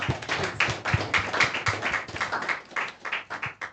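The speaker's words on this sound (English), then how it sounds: "please give her a round of applause" An audience at a public forum on citizens' priorities and economic conditions gives a round of applause, a close, steady burst of many hands clapping with no talk over it.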